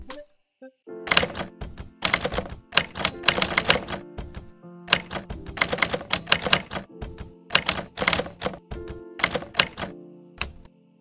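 Retro manual typewriter sound effect from the Hanx app: clustered bursts of crisp key strikes and clacks in quick irregular runs, separated by short pauses, close and dry with no talking.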